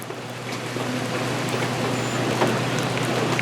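Rain falls on a parked truck, heard from inside the cab as a steady, even patter with a low hum underneath and occasional louder drops, continuous and moderately loud.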